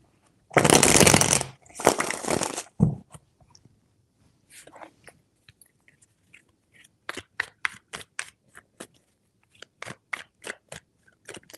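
Tarot cards are riffled in two loud, close bursts, then tapped and dealt in a run of sharp separate snaps and clicks against quiet surroundings.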